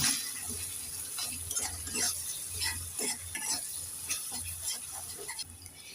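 Spice pastes and powders, cumin-coriander paste, turmeric and chili powder, sizzle steadily in a pan for an egg curry with mustard and poppy seed, with a spoon stirring in repeated scraping strokes close by.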